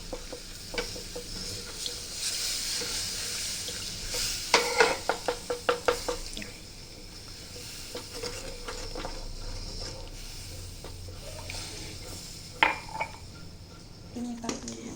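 A spoon stirs milk into white sauce in a pan on the stove, with soft liquid sloshing and a quick run of rhythmic scrapes and clinks against the metal, then a few scattered taps, while a voice speaks at times.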